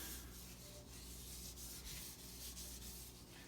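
Grease is rubbed by hand onto a cast iron pan, including the backside, making a soft, continuous, even rubbing sound. Close and quiet, with no speech.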